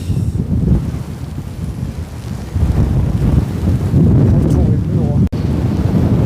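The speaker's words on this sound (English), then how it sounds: "Some savage wind." Strong gusting wind batters the microphone outdoors on an Irish farm during fencing work, a loud continuous roaring rumble that surges and dips, with no voices heard.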